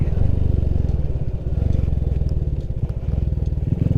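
A motorcycle engine runs steadily up close on a ride home through light traffic, a continuous pulsing low drone with rattly clatter and brief revs, and no talk over it.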